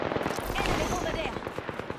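Rapid automatic gunfire in the shooter game Apex Legends: a fast, rattling string of close shots, loud and continuous, then a sharp louder burst at the very end, with a voice briefly mixed in.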